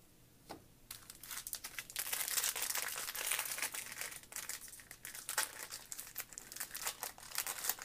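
A Yu-Gi-Oh booster pack's foil wrapper crinkles and tears close up in a run of loud, irregular crackles.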